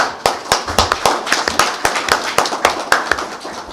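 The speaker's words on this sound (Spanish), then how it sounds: "Para ellos un aplauso." Sparse hand clapping from a conference audience after a speaker's introduction, sharp separate claps in an uneven rhythm, fairly loud and close, with no talking.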